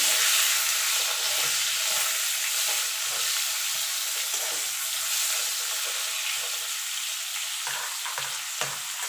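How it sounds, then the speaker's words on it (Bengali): Potatoes seasoned with turmeric and salt fry steadily in hot oil, a dense continuous sizzle close by with faint stirring knocks underneath, no talking throughout. "একটুখানি নুন দিয়ে দেবো, দিয়ে আলুগুলো ভেজে তুলে দেবো"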